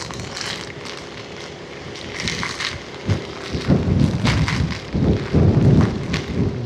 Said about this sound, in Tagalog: umulan na naman ng malakas